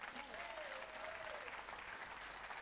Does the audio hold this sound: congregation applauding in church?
yes